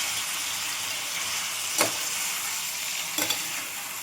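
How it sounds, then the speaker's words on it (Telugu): Chicken is stirred into fried rice in a frying pan: a steady close sizzle of frying with a couple of brief spatula scrapes against the pan. "చికెన్ వేసాక ఇలా మొత్తం మిక్స్ చేసుకోవాలి."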